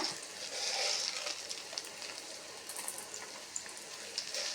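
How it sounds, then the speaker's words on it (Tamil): Steady crackling sizzle of coconut and chickpeas sautéing in a hot pan, a dense hiss with small pops throughout, close by and fairly quiet, no voices. "நல்லா வதக்குங்க கொஞ்சம் சிம்மிலே வச்சு வதக்குங்க"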